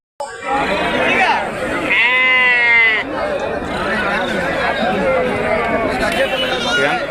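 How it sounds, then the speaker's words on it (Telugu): Kunta sheep and lambs at a livestock market, with bleating calls rising over a busy backdrop of people talking and general crowd noise, one long clear bleat standing out early on. "ఇదంతా కుంట గొర్రెలు"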